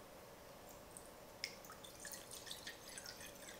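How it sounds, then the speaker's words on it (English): Distilled water trickles and drips into a container to wet xanthan gum for soap making, a faint close pouring with small splashy droplets and no talking. "we're gonna wet it in some distilled water here"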